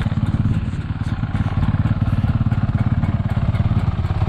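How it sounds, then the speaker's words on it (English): A Sherco dirt bike engine at a Badlands riding area, a loud, close, steady thumping run with a rapid pulsing rhythm and light mechanical clatter throughout, with no voices. "We're gonna go ride dirt bikes."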